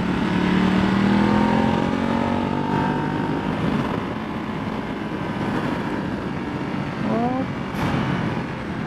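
A Ducati Multistrada 1200 S motorcycle climbing a hill in Los Angeles, its engine droning loud and steady with rising and falling pitch, with wind rush throughout and a brief shift in tone near the end.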